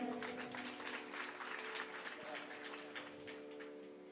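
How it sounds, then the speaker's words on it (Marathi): An audience claps to welcome a performer at a devotional singing programme, a broad, steady patter of many hands at moderate distance, heard faintly with a voice and tonal sound running underneath. "जोरदार टाळ्या वाजवायच्या आहेत."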